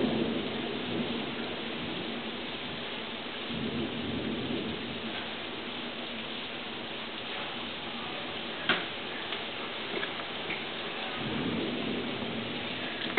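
Rain pours steadily through a thunderstorm, a dense, even hiss with low rumbling thunder rolling beneath it and one brief sharper crack near the middle; no one speaks.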